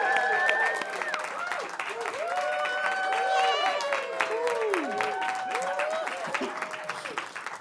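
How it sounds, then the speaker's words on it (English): A studio audience claps and cheers, forming a dense wash of applause that runs throughout at a steady level with whoops over it. Voices are audible within the crowd. "Give them a big round of applause."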